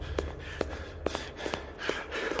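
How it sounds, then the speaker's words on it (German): A video game character pants heavily in rhythmic, repeated sharp breaths, about a dozen quick gasps at moderate volume with nothing else over them. "hör auf zu schnaufen"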